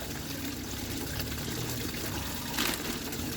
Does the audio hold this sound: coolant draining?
yes